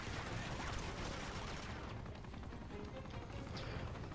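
Gunfire in a demo of the video game Uncharted, with rapid bursts of shots and fusillade-like rattling over a dense, noisy battle background, moderately loud and continuous with no clear speech.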